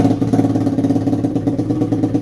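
A Lifan KP Mini 300 4-valve motorcycle engine with an unbaffled custom exhaust runs just after starting, a loud, close, rapid throbbing idle with steady rough pulses and no voices.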